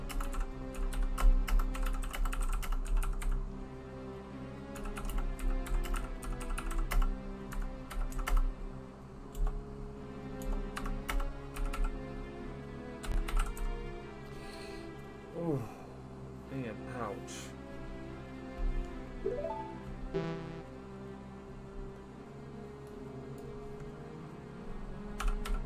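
Computer keyboard typing for notes during a Zelda Ocarina of Time randomizer game, with clusters of close clicking keystrokes in irregular bursts under a voice and background game music.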